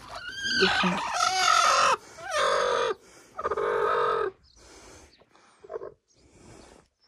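Several broody hens call out in loud bursts and clucks, close by, with pauses between the calls and some quieter clucking toward the end.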